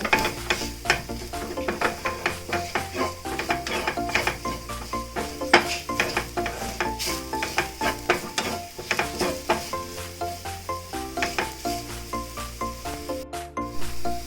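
Vegetable cutlet masala fries in a pan while a spoon stirs and scrapes it in quick, repeated strokes, a steady close sizzle under dense clinking and scraping.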